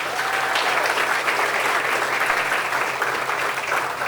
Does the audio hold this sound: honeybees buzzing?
no